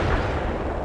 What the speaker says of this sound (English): Target pinpointed. Commence artillery strike.